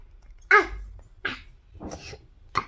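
A child imitates a dog barking with a few short, separate yelps spaced about a second apart, close and fairly loud against a quiet room.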